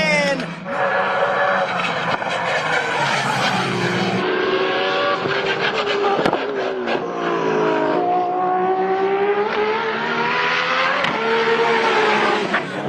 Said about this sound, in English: That RB, it's got all the turbo in it. You can hear it through the dump pipes.